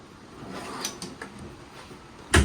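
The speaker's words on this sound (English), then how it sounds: "Pull out drawer down underneath." A pull-out drawer slides open beneath the kitchen counter of a 2025 Forest River Salem Cruise Lite 24RLXLX travel trailer: one short, close scrape and bump near the end, after a quiet room hush.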